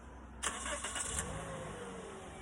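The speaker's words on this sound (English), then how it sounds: "Car's going to start." A car engine started remotely with a Viper DS4+ remote starter: a short cranking burst, then the engine catching and settling into a steady idle, heard from nearby and fairly quiet.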